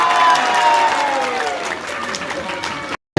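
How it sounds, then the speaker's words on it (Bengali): Audience clapping at a mock frog wedding held at Jahangirnagar University, a dense burst of crowd applause that stays steady and then cuts off abruptly near the end. "হাততালি দিচ্ছেন না কেন?"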